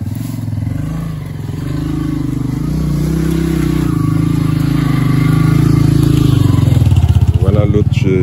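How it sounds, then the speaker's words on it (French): A motorcycle rumbles along a muddy detour road in rural Guinea, its engine note rising and growing louder as it approaches and passes close by, with a revving surge near the end. "Ah bah tiens, la moto veut passer par là."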